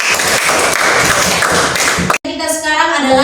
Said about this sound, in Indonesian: Tepuk tangan untuk Marta